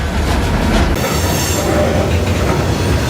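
A freight train rolls loudly and continuously into the Union Pacific hump yard in Houston, steel wheels rumbling and faintly squealing on the rails, close by.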